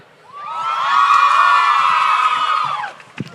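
Crowd of fans at a live cast panel and screening cheering and screaming, a loud sustained roar of high-pitched shrieks and whoops that swells, holds for about two and a half seconds, then drops away.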